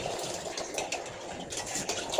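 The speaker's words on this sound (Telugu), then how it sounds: "జొన్నలు మిక్సీలో పట్టి కడుగుతా" Ground sorghum being rinsed in water by hand, a continuous wet sloshing and swishing at close range with small splashes, steady throughout.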